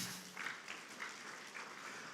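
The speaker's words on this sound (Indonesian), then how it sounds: "Tepuk tangan dong buat Tuhan Yesus." A church congregation at a worship service claps together, heard as a soft, distant, continuous patter of many hands throughout, fairly faint and with no talking over it.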